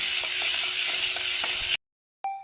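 Tomatoes frying in a pan for a prawn curry give a steady, dense sizzle with faint stirring clicks, then a brief silence before the sizzle bursts back in.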